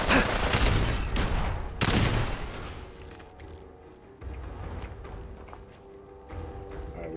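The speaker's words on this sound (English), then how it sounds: "Where am I getting shot at from?" Gunfire rattles in Fallout 4, loud volleys of shots at the start and again around two seconds, then fainter scattered shots and rumbling as the firing dies down.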